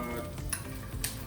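Chopped onion sautéing in oil in a pan for a sable en papillote dish, giving a steady close sizzle with soft stirring scrapes and no talking.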